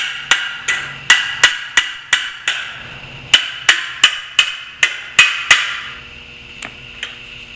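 A hammer taps repeatedly on a Trans Am seat track, about a dozen sharp metallic strikes in an even rhythm, close and loud, trailing off into two lighter taps.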